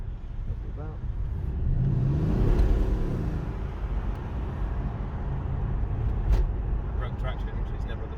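Mercedes-AMG CLS 63 engine on the road, a broad rumbling swell that rises with a throttle blip near the start and then settles into a steady drive under light talk.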